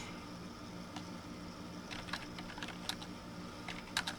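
Keys on a computer keyboard tapped in a few sparse, quiet bursts against a low steady hum, as a short title is entered with pauses between clusters of clicks.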